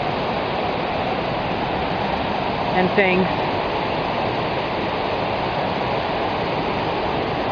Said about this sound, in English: you'll see some waterfalls